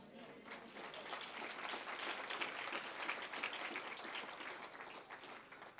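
Church congregation applauding, a steady, dense wash of many hands clapping that holds evenly throughout, fairly distant and soft.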